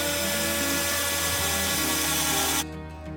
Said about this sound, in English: Next, I'm going to use my drill to make a hole.